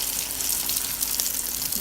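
Pieces of bread frying in heated oil give off a steady, dense sizzle and hiss that stays fairly even throughout, with no voices.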